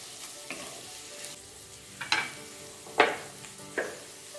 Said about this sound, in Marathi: हे 2 मिनटं हलवतच राहायचं